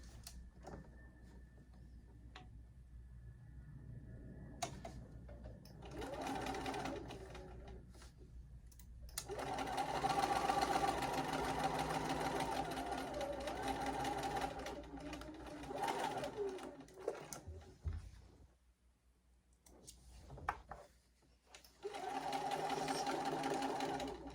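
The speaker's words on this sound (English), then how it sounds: "And we're going to sew this together." A sewing machine stitches fabric pieces together in long runs of steady mechanical whirring, stopping and starting several times, with quiet handling noises during the pauses.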